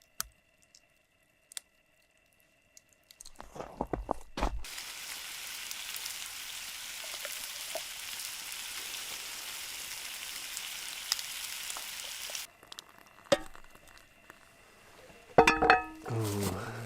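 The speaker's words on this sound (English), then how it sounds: "I'm gonna fry up in some bacon fat." Bacon fat frying in a pan outdoors at a winter tarp shelter camp in Canada, a steady close hiss and crackle that lasts several seconds before stopping, followed by a few knocks and clatters.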